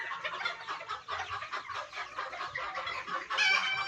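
Heritage and upgraded chickens on an island farm cluck busily in a close, continuous chatter, with a rooster's crow rising near the end, no talk.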